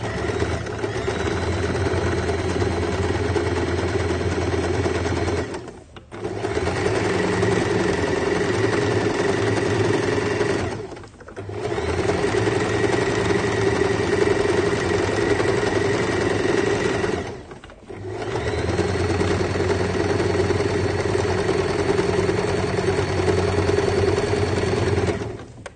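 A sewing machine stitching fabric gathers, running in three long steady mechanical whirring passes separated by short pauses, close and fairly loud with no talk over it.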